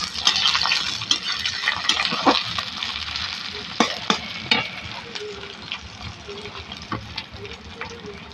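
Potato and bitter gourd fry with onion and five-spice in a pan, a steady close sizzle with scattered sharp clinks and stirring knocks, a voice briefly audible underneath.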